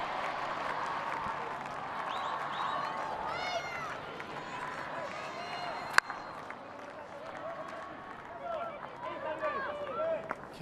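A stadium crowd at a women's field hockey Champions Trophy match between Argentina and Australia roars and cheers steadily, a broad wash of noise beneath a commentator talking throughout, with one sharp knock midway.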